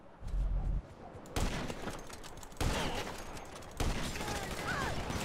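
Sniper rifle gunfire in GTA V with the LSPDFR police mod: three loud, sharp reports spaced about a second apart, each followed by a short tail, over a constant bed of game ambience.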